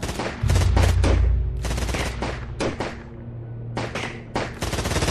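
Gunfire sound effects from a shootout between a fugitive and soldiers in an action-horror audio drama: loud close bursts of rapid shots in several volleys, with brief pauses between them and no talk.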